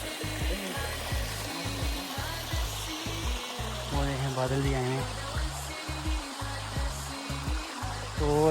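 Mountain stream water rushes steadily in a hilly forest, a broad continuous hiss under a man's intermittent speech and some mechanical rumble.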